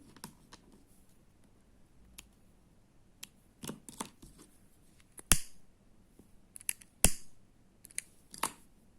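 Scissors snip off loose thread ends on a crochet lace piece, a handful of sharp, separate clicks and snips spaced irregularly over quiet background.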